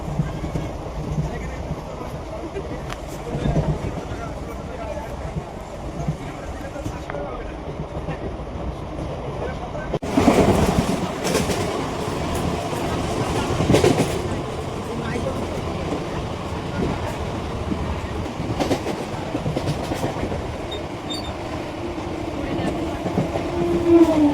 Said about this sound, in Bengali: ট্রেন থেকে নেমে পড়েছি, ট্রেন চলে যাচ্ছে